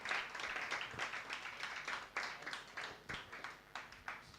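Audience applause at a journalists' round-table meeting, a steady patter of many hands clapping for several seconds at moderate, slightly distant level, with no talk over it.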